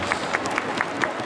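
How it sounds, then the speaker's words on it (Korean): Rhythmic clapping from a crowd at a KIA Tigers rookie introduction event, steady claps about four per second, moderately loud and close, with a faint murmur beneath. "네, 박수 한번 보내주시기 바랍니다."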